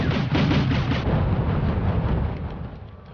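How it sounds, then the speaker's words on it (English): Flak panzer anti-aircraft guns fire in the Wargame European Escalation strategy game, a rapid rolling barrage of deep booms that holds heavy and dense before gradually thinning toward the end. "Those flak panzers are shaking them up."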